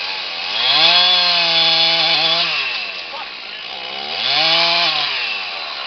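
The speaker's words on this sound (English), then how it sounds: "Your saws working wonderful." A chainsaw runs steadily near and loud for about six seconds, its engine pitch dipping then climbing back as it revs, with no talking.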